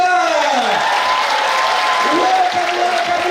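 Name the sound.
audience clapping for comedian teacher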